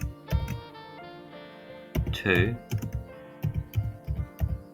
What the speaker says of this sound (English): We begin by typing pin mode